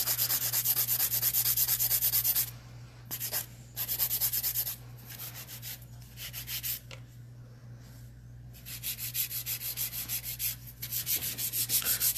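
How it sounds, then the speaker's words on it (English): A 150 grit file shaping the edge of a fingernail during a gel nail session, giving steady close scraping strokes in rhythmic bursts, with short pauses and a constant low electrical hum underneath. "I'm using 150 grit file to shape the perimeter of the nail."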